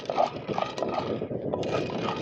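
Dry, scattered clattering and scraping of sun-dried jackfruit seeds shifting and rattling as they roast in a pan over low heat, steady and close with no voices.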